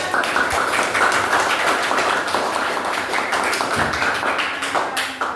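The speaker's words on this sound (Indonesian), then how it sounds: "Ya, tepuk tangan." A group of children in a classroom clap their hands together in rapid, steady, dense clapping that continues loudly throughout.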